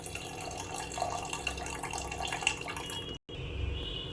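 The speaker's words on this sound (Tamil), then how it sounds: "இப்போ 1 லிட்டர் தண்ணி ஊற்றிருக்கேன்." Water poured into a pot of rice and lentils for a pongal dish, a steady splashing run of liquid that stops abruptly near the end, then resumes more softly.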